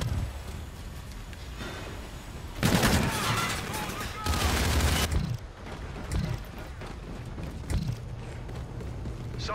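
A gun run strafing attack in Call of Duty: Infinite Warfare, two long roaring bursts of heavy sustained fire, loud and close, followed by scattered impacts and mechanical clatter under faint radio voices.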